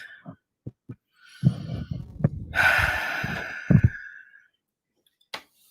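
A slow, deep exhale during a guided restorative breathing exercise, heard close up as a soft breathy rush in the middle, surrounded by scattered low thumps and brief rustles.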